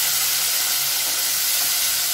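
Water poured onto masala in a hot pan for an egg todka, giving a steady, loud broadband hiss and sizzle that holds evenly from start to finish with no talk.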